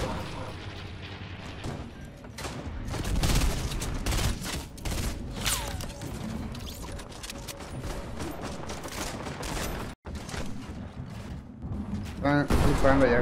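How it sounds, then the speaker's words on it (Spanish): Gunfire in Fortnite, repeated bursts and shots with booming impacts running throughout, fairly loud and mixed under casual talk between players. "Están disparando allá, güey."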